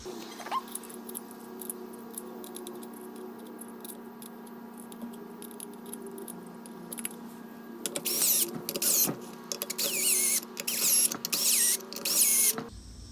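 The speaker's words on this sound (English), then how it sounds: "we're going to tighten down the bolts with a 14 millimeter" A 14 millimeter wrench tightening motorcycle wheel bolts makes rapid, close ratcheting clicks in bursts over a steady background hum, growing louder and busier toward the end.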